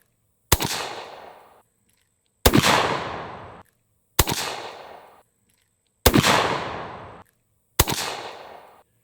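Suppressed 10 gauge break-action shotgun firing buckshot, five loud, close booming shots spaced a couple of seconds apart, each with a sharp crack followed by a decaying tail.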